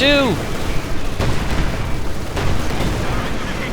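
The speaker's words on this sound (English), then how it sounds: "Panzer IV opening up on the rear of the ISU-152" A Panzer IV tank fires in the strategy game Company of Heroes 2, a loud booming cannon shot opening the clip, followed by rumbling battle noise and further distant impacts.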